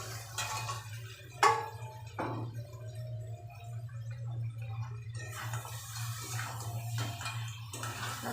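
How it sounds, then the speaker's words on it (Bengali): Crabs are dropped into a pan of fried spice paste and oil, giving one sharp clatter followed by softer scraping and stirring noises over a constant low kitchen hum. "মশলা কষে গেছে তেল ছেড়ে দিয়েছে মশলা থেকে এবার কাঁকড়াগুলো দিয়ে দেব"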